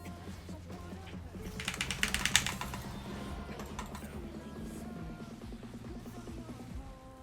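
Fast, hard keystrokes clatter on a computer keyboard in an online League of Legends match, a dense burst of clicks peaking early then continuing steadily under constant game sound.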